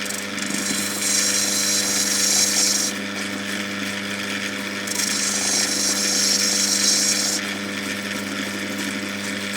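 A grinding wheel shaping a natural Ethiopian opal, a constant steady hum with a bright hissing grind that swells during two longer contact passes and eases between them, close and loud.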